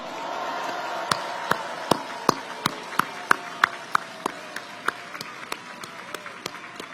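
An audience applauds at a presidential election rally in Myeongdong, Seoul, with a broad crowd clapping beneath a string of sharp, evenly spaced claps close to the microphone that gradually fade.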